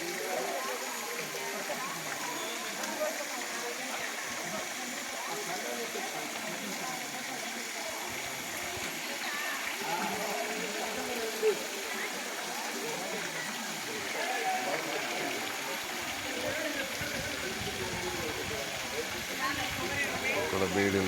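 Bhairavakona waterfall sends up a continuous, even wash of falling and splashing water. It is heard at a moderate distance and fairly soft, with no break in the steady rush.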